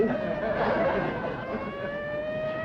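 A siren wails with slowly falling, layered tones, fairly loud and sustained throughout.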